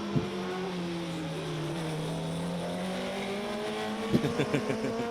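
Honda racing motorcycles on a track during a Honda Cup trackday race, engines droning steadily at high revs with pitch sliding as the bikes pass, a sharper rising burst near the end.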